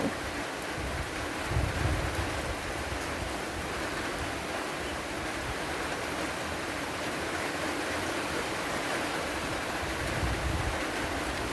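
Steady rain pours down in a continuous hiss, with low rumbles of thunder rolling in the background at a couple of points.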